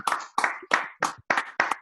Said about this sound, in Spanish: despedimos a don Pablo con un aplauso